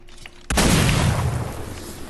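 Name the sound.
firework launcher explosion in the video game Fortnite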